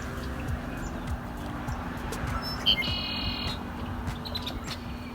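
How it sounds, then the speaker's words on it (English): Red-winged blackbirds call outdoors, with a faint sucking, whistling note and a brief chirp rising over a constant low background hum. "the two blackbirds with the red wings. You can hear they don't chirp, they kind of do this sucking,"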